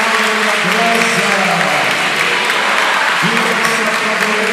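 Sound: crowd applauding Our Lady at a religious procession

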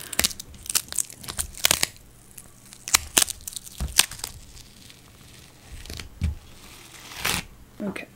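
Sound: peeling off a stuck-down planner insert

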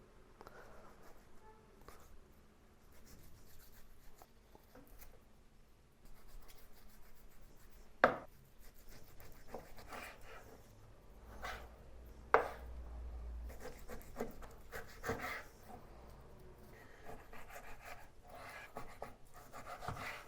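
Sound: chopping beef into cubes

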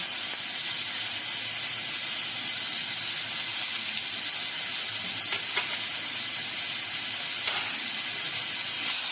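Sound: garlic frying in oil

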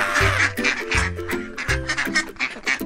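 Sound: duck quacking

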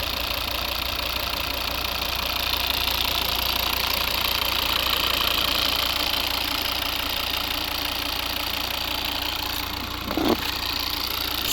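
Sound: Volvo V70 2.0 D3 diesel engine idling

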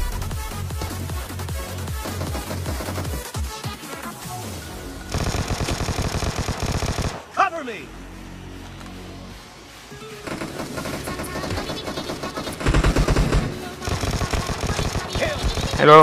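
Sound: gunfire in the video game PUBG

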